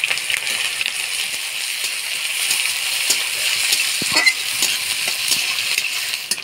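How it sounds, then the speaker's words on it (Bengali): Onion with dry red chilies crackles in hot oil for khichuri, a bright steady sizzle close up with repeated stirring scrapes and metallic spoon clinks. "পেঁয়াজটা একটু তেলের মধ্যে নাড়াচাড়া করে নিলাম"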